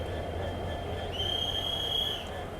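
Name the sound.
train with push-pull locomotive leaving for Rameswaram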